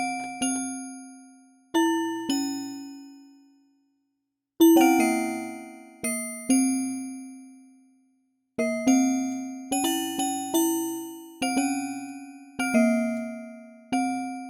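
Synthesized bell tones ring out in a sparse, uneven melody, each note striking clearly and decaying, with brief silences between phrases.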